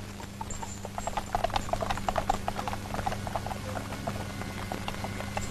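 A horse hitched to a cart, in an old Soviet film scene, clip-clops in a quick, steady patter of hooves over a constant low hum, with no speech.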